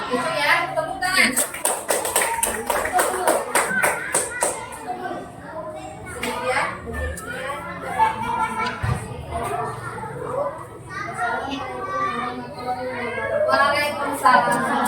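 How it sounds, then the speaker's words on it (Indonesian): Schoolchildren in a classroom clap their hands in a burst of rapid, overlapping applause at the start, then settle into lively chatter and children's voices with scattered taps. "tepuk tangan"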